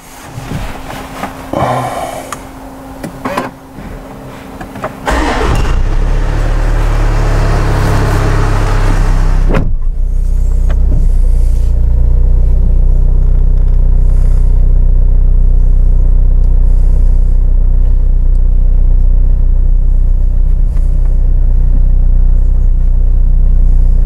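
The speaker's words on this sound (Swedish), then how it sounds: "Jag tycker vi kör en liten provtur." Jaguar F-Pace on a test drive: after some scattered handling noises, a steady, loud low engine and road rumble from inside the cabin runs continuously to the end.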